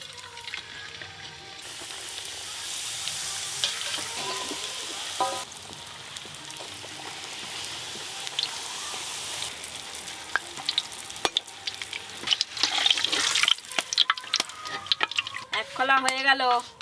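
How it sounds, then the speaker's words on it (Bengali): Luchi, puffed Bengali flatbread, fry in hot oil with a continuous bubbling sizzle, punctuated by stirring and utensil clinks, while a person talks over the cooking. "এবার লুচিগুলো ভেজে নেব।"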